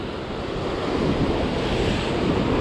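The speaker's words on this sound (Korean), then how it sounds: "또 저런 파도들 있잖아요" Strong ocean surf breaks against the shore at a fishing spot on a rough-sea day, a loud continuous roar with wind buffeting the microphone and no voices.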